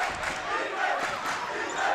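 A loud Rams crowd roars and cheers at a high school boys basketball quarterfinal in the gym, the noise swelling in steady waves with no break.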